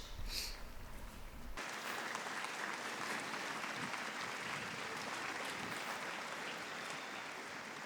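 Sustained applause from a large crowd at a Catholic youth festival, a continuous dense wash of clapping that swells at the start and holds steady and even throughout, with no talk.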